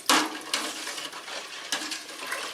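Turkey brine stirred in a pot on a stovetop over high heat, a sharp utensil clank at the start, then scraping and swishing strokes with a couple more knocks against the pot, close and moderately loud.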